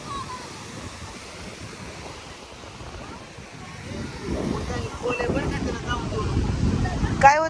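Sea waves wash onto a shore at sunset as the evening tide rises, a soft rushing swell that grows louder and closer, with wind noise on the microphone and voices nearby.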